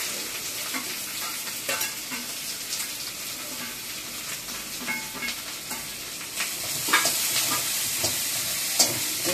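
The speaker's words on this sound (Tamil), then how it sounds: "இன்னைக்கு வெங்காயம் நம்ம நல்லா வதக்கினாதான் டேஸ்ட் நல்லா இருக்கும்." Chopped shallots sautéing in a pan until golden brown: a continuous close sizzle broken by light scraping stirs and small bursts of spattering, with no voices.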